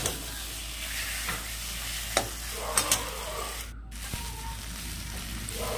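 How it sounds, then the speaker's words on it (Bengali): Pieces of rohu fish curry with spice paste of cumin and ginger are stirred in a hot pan, giving a steady close sizzle under scraping spatula strokes and a few sharp clicks of utensil against metal. "দেখতেই পাচ্ছ তরকারিটা ভালো করে কষাচ্ছি।"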